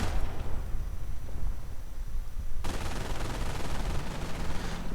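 Dense, continuous gunfire and explosions in a WWII strategy video game battle with an anti-tank gun firing, loud and unbroken, with a sharper burst of fire cutting in partway through.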